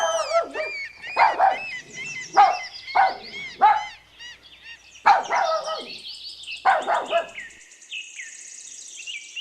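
A puppy barking: a run of short, bright, high-pitched yips and barks in uneven bursts, close and clear, with a sustained higher whine near the end.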